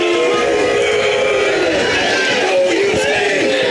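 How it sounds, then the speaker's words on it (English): A high school football crowd at a Warren Lumberjacks versus Pocahontas Redskins game grumbles and boos loudly after a defensive pass interference call, a dense sustained roar of voices close and continuous throughout. "And the crowd doesn't like it at all"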